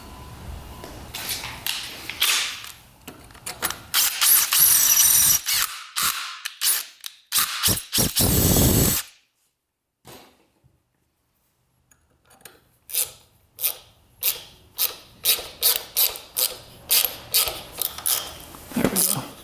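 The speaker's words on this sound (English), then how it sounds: "So I noticed that this bolt hole is just completely stripped out." A tap is worked by hand through a stripped bolt hole on a dirt bike, producing bursts of close metallic ratcheting clicks and creaks, with a pause of near silence in the middle before rhythmic clicking resumes.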